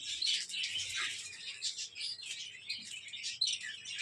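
Cockatiels chirp in cold weather, a dense, continuous chatter of high twittering calls that overlap and carry on steadily at moderate volume.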